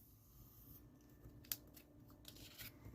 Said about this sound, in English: and now I'm going to cut them out.